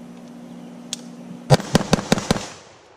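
A handgun fired outdoors in a rural hollow: one faint pop, then a quick string of five sharp, loud cracks in close succession, each with a short echoing tail.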